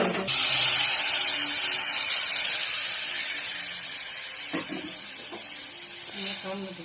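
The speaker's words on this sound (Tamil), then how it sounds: "ஃப்ரை பண்ணோன்னே நம்ம அந்த சூப்பை வந்து அப்படியே ஊற்றிக்கலாம்." Tomato soup poured into a hot pan bursts into a loud, close sizzle and hiss that slowly fades, with a few faint clinks of utensils near the end.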